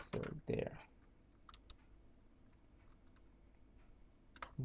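Computer keyboard keys clicking while code is typed, a few loud clustered strikes at the start, then sparse faint taps and another burst at the end.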